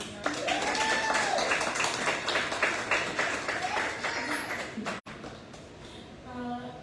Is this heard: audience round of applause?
yes